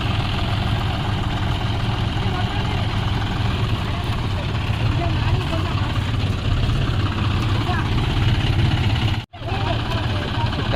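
A stuck tractor's engine runs with a steady low rumble throughout, with a brief cut near the end.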